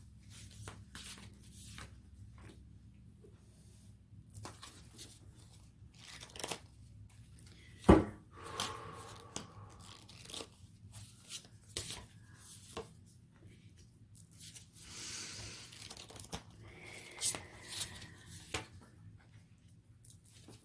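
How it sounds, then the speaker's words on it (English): An animal spirit tarot deck is handled close up, with soft riffles, slides and taps of the cards being shuffled and drawn in quiet, irregular bursts, plus one sharp knock partway through. "Let's pull out 3 cards."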